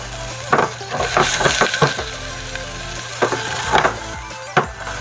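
Vegetables sautéing in a hot pan for homemade ramen, a loud close sizzle broken by repeated sharp clacks of a utensil against the pan.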